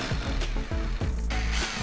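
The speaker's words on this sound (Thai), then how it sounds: "เราก็ทำการคีบตีสลักก่อนเลยครับ" A pin is tapped into a magnetic lock strip for a swing door, giving about five sharp, close metallic taps at an uneven rhythm over steady background noise.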